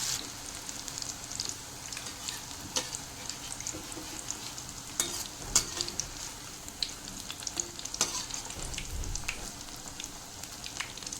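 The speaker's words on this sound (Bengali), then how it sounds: "এইভাবে উল্টে পাল্টে ভেজে নেব" Rose flower pakoras sizzle steadily in hot oil as they are turned over. The constant crackling bubble is broken by occasional sharp pops and the clink of a spatula, close up and with no talking.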